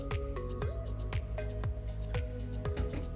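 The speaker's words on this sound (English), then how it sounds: "That is fresh squeezed, hand squeezed fresh orange juice." Fresh oranges squeezed by hand into juice, wet squishing pulses and dripping liquid repeating in a steady rhythm, close up.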